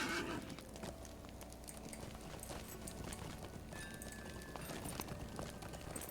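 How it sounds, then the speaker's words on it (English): Horse hooves clop at a steady pace with a brief whinny in the Lord of the Rings Online video game, faint and mixed into a busy game soundscape. "That's a nice horse."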